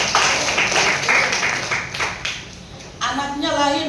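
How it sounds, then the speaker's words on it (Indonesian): A church congregation claps hands in praise during a sermon, a loud round of dense applause that fades partway through before a voice begins speaking over the tail. "Berikan tepuk tangan buat Tuhan."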